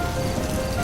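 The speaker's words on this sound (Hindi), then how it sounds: "तभी अचानक तेजी से बारिश शुरू हो जाती है।" Heavy cartoon-style rain pours down in a continuous, loud hiss of dense pattering drops, close and unbroken.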